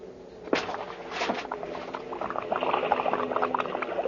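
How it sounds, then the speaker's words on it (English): A Spitfire pilot hits the sea off Malta after drifting down by parachute in a wartime radio drama: a sharp splash, then steady churning, bubbling water that keeps up throughout, fairly close with no talk. "He hits the water."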